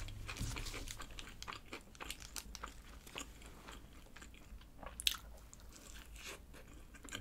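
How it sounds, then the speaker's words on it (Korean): Close chewing and crunching while pizza bread dipped in garlic sauce is eaten, with soft bites, crinkles and a sharper click near the end, no talking. "갈릭 디핑 소스도 찍어서 먹어볼게요."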